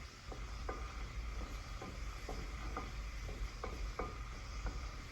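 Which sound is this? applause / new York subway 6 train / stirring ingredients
stirring ingredients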